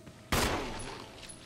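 A single loud gunshot in Resident Evil Remake, a sharp close crack followed by a long fading echo tail in an otherwise quiet scene.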